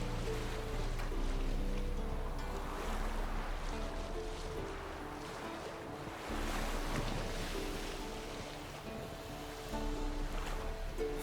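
A rowing boat crosses a foggy lake in The Witcher 3, with steady water wash and low wind rumble filling the scene, interrupted by soft sustained tones, continuous and fairly quiet with no voices.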